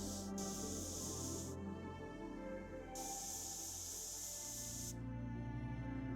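Airbrush cleaner bubbles back through the brush, a soft gurgling hiss with two bright spurts of spraying air before it settles to a quieter bubble.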